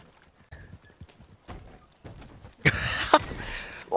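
Horse hooves clip-clop and a horse whinnies in the game Red Dead Redemption 2, soft scattered steps at first, then a louder, dense burst of galloping and neighing in the final second and a half.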